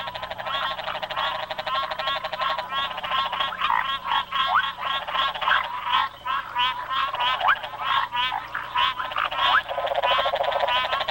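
A chorus of frogs in rainy-season Africa croaks loudly and close, rapid pulsing calls overlapping in uneven bursts throughout.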